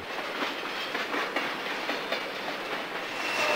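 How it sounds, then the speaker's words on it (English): A Santa Fe freight train rolls steadily around the Tehachapi Loop, its caboose passing over Tunnel 9 with a continuous broadband rumble and faint clickety-clack of wheels on rail, sustained and fairly close throughout. "The caboose rolls over the top of Tunnel 9 as the train exits the loop."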